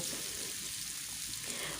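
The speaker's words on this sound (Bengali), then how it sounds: "প্যানের মধ্যে সরষের তেল দিয়ে পনিরগুলোকে ভালো করে ফ্রাই করে নেব" Paneer cubes fry in mustard oil in a pan, giving a steady, close hiss of sizzling that runs unbroken and fairly quiet for the whole stretch, with no voices.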